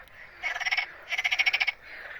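Frogs croak in two quick, rattling bursts of rapid pulses, with a third starting at the end; loud and close, no other sounds, beside a fishing pond.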